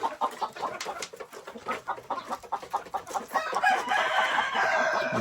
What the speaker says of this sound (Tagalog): Yan sila, yung mga manok.